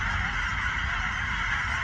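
A dense chorus of hundreds of geese honking continuously, loud and close, overlapping calls blending into a constant clamor with no pauses.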